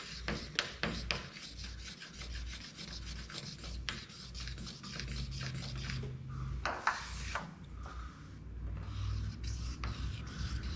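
Clear coat being sanded on a Chevrolet Camaro Z28, a steady rubbing rasp with strokes repeating in quick bursts, close by and fairly quiet, with a short pause partway through.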